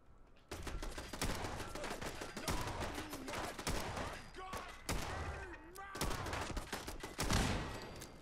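Hunting rifle fire in Fallout 4, a series of loud, close sharp shots and bursts spread across the scene, with voices and other game sounds in between.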